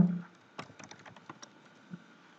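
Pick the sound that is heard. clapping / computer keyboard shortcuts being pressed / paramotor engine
computer keyboard shortcuts being pressed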